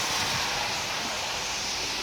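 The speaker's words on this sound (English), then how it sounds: "The wind is picking up." Steady roaring wind during Hurricane Dorian in Halifax, Nova Scotia, a broad continuous rush with rain, loud and close with buffeting against the microphone, no voices.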